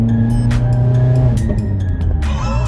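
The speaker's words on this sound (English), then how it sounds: "Hear that pop and bang!" A car fitted with a Cobra sports exhaust driving along, its loud engine drone punctuated by sharp pops and bangs on the overrun, close and continuous with no talk.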